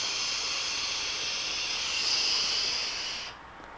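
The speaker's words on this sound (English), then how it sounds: "So let's go ahead and give it a vape." A long, steady hiss of airflow comes through a Freemax Twister tube mod running dual mesh coils at 65 watts with the airflow wide open, drawn for about three seconds before it cuts off abruptly.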